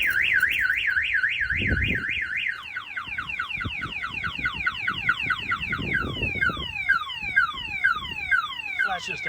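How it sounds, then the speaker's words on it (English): A 1970 Pontiac LeMans car alarm blares nearby, set off by banging on the window, cycling through rapid warbling and sweeping siren patterns, with thuds and clatter beneath it. "If somebody bangs in the window, it sets off the alarm."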